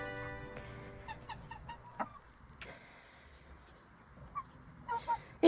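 Orpington and Marans hens cluck softly at close range in short scattered bursts, with a few sharper calls among them and a louder cluck right at the end.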